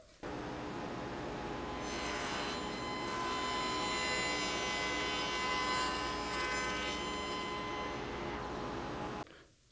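A table saw with a Rockler miter fold dado blade cuts plywood in a single sustained pass, a loud steady whine with rough cutting texture running nearly ten seconds before stopping abruptly.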